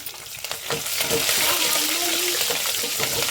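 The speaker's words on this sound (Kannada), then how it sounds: "ಒಂದು ನಾಲ್ಕೈದು ಹಸಿಮೆಣಸಿನ್ಕಾಯಿ ಎರಡು ಪೀಸಾಗಿ ಮಾಡ್ಕೊಂಡು ಇಟ್ಕೊಂಡಿದ್ದೀನಿ ಸ್ವಲ್ಪ ಫ್ರೈ ಮಾಡ್ಕೊಳ್ಳೋಣ" Dried and green chillies fry in hot oil in a pan for a Brahmin-style mango rasam, giving a loud, steady, close sizzle that swells and holds throughout.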